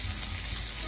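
Salmon sears in a hot pan, giving a steady, close broadband sizzle and hiss that stays even and unbroken for the whole moment.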